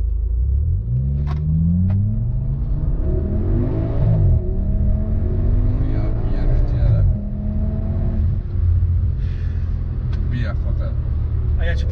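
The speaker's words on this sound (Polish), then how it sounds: "Sprawdźmy przyspieszenie od zera." A 1040 HP Audi RS6 R accelerates hard from a standstill, its engine roaring loudly and climbing through rising revs with brief dips at the gear changes, close and continuous for the whole stretch.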